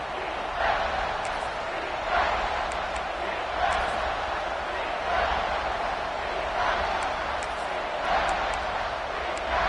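A stadium crowd at a college football game keeps up a continuous, fairly distant roar with rolling swells, and a commentator's voice runs over it.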